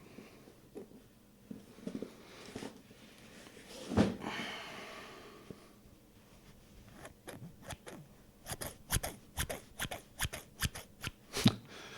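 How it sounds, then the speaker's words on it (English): Crisp snipping and cutting sounds close by, scattered at first, then coming in quicker, sharper clusters toward the end, with light rustling between. "Not expecting scissor sounds in a coffee video."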